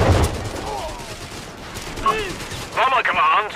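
Gunfire in the Company of Heroes 3 strategy game: a burst of shots at the start, then sparse battle noise with short whistling tones and a louder flurry near the end, with a voice briefly heard.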